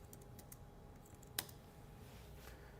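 A handful of soft, quiet keystrokes on a computer keyboard, with one sharper click standing out in the middle, over a low background hum.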